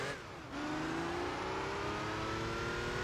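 Porsche Boxster engine in the video game Gran Turismo 3, revving up after a brief dip, then holding a loud, climbing whine with rising harmonic tones for several seconds.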